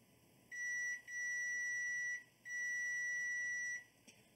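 Multimeter continuity beeper testing a ground wire while modding server-grade storage for a desktop: two long, steady high-pitched tones separated by a brief gap, clear and close over a quiet room.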